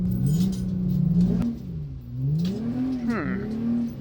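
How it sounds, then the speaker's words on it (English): A Ferrari engine labors and revs unevenly while climbing a hill with a transmission problem, pitch sagging and rising as it strains, loud and close, with a brief squeal near the end. "it kind of sounds like it has a transmission issue"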